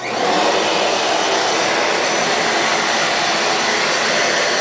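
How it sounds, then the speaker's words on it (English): A shop vac collecting debris at a table saw runs loud and steady, a continuous broadband roar held from start to finish with no talk. "what I do is I turn on my shop vac"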